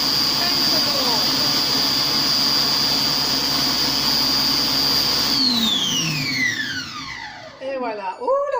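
A Compact Cook Pro food processor runs on pulse with a loud, steady high whine and motor drone for several seconds, then winds down with a falling pitch as it stops.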